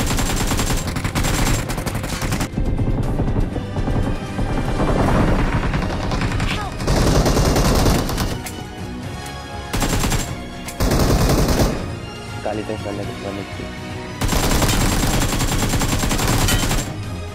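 Shotgun blasts and automatic gunfire in the BGMI mobile battle royale game come in loud, dense bursts separated by brief lulls, with the shooting repeatedly stopping and resuming.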